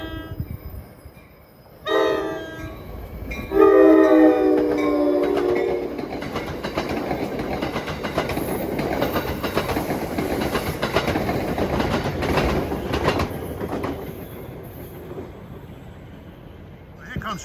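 An NJ Transit commuter train running Warwick to Hoboken sounds its horn in a few loud blasts, then passes close by with a long, steady rumble and clatter of rail cars that fades toward the end. People talk nearby.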